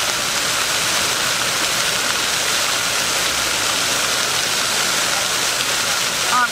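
Flowing water rushes in a steady, loud, broadband wash with no letup, heard outdoors close to the source through a Comica VM10 microphone, with no talking.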